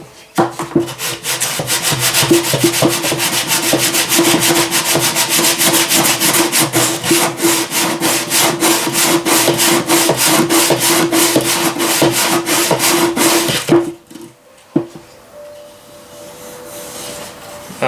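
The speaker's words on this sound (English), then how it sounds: "we're going to take our sander and we're going to just sand this down" A sander works over the wooden lower hull planking of an HMS Endeavour model ship, a loud, continuous rasping rub lasting about fourteen seconds before it stops abruptly.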